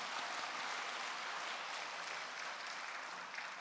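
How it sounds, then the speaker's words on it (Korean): Applause from a church congregation at a Sunday service after a choir's praise song, a dense continuous wash of many hands clapping at steady loudness throughout, with no voices over it. "박수 한번 다시 한번 할까요?"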